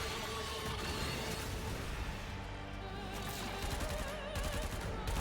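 Rapid, dense gunfire from the video game Warframe, with bursts of automatic fire and crackling impacts running continuously over a busy layer of game effects and music.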